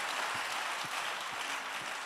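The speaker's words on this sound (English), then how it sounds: "When you're clapping, clap unto the Lord." A church congregation at a book launch claps together, producing a broad, continuous wash of applause that stays level throughout, heard from within the crowd.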